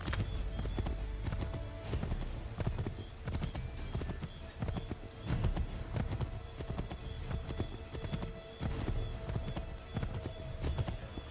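A horse's hooves clip-clop in a steady walking rhythm, close and moderately loud, while Connor rides in Assassin's Creed 3, with faint game ambience underneath.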